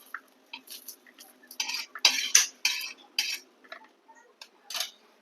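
Fried green chillies and peanuts being scraped from a pan onto a plate, a series of close metallic scrapes and clinks from the spatula in irregular bursts, with no talking.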